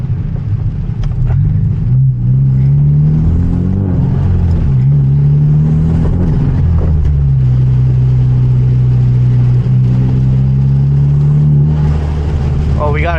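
Manual Hyundai Genesis Coupe with an aftermarket exhaust cruising at night in the rain, a close, steady engine drone with gear changes and rising pitch, a person talking over it.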